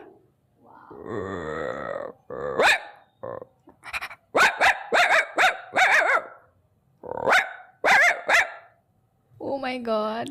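A girl vocally imitates a dog barking, producing a string of short, loud bark-like bursts in uneven groups, preceded by a drawn-out growling sound and ending with a brief voiced tone.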